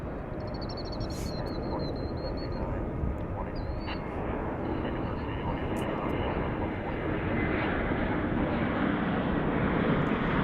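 An arriving airliner at Dallas Fort Worth International Airport, a loud broad engine roar that holds steady and swells slightly toward the end, heard outdoors with faint bird calls above it.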